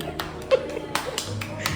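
A child claps a few times, with soft, scattered claps and short pauses between them, while adults talk nearby at an illusion attraction in Dubai.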